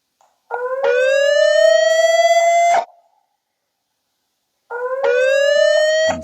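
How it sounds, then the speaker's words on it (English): An ANNKE indoor PTZ security camera sounds its alarm siren indoors: two loud, rising electronic wails, each held about two seconds, separated by a pause, close and alone. "actually ringing the alarm on it"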